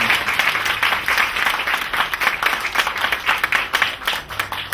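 Steady audience applause at a Korean humanities lecture on children building schools, held at Jeonggwanheon; many hands clapping continuously and fairly close, with no talk over it.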